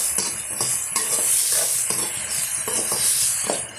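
Potatoes sauté in a pan over a high flame, a loud, close sizzle with regular stirring scrapes and knocks recurring roughly every half second throughout.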